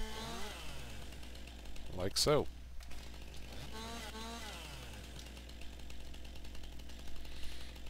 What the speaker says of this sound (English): you've got to remove these branches with the chainsaw